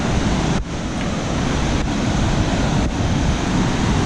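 A glacial river roars under a swing bridge on the Hooker Valley Track in New Zealand, a loud, steady wash of rushing water with a little wind buffeting the microphone.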